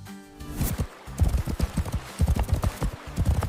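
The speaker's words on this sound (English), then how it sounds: "The horse runs very fast." A galloping horse's hooves clip-clop in quick, rhythmic beats, loud and close, with a brief whinny-like tone near the start and no talking.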